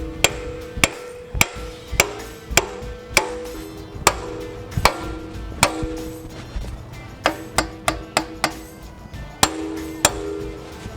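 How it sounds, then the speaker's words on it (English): Hammer taps driving a pin into the lifting hook bracket on a Yanmar excavator, a series of sharp metallic strikes at uneven intervals, some in quick clusters, loud and close with no talking. "then tap the pin right on in"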